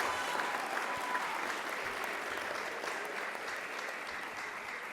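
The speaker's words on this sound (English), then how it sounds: "I'm actually going to ask for one more round of applause for that national anthem" An audience applauds after a national anthem performance at a lecture series event, with steady, dense clapping throughout that holds at moderate volume and fades slightly toward the end.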